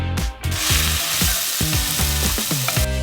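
Pepper herb paste frying in hot oil on high heat, a loud continuous sizzle broken by repeated scraping strokes of a spoon stirring the pan, close up with no voices.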